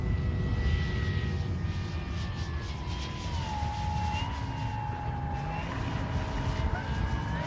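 FMS Mustang 1.7 m RC model warbird flying overhead at an RC show, a steady engine-like whine sliding in pitch as it passes, continuous over loud outdoor wind and background noise.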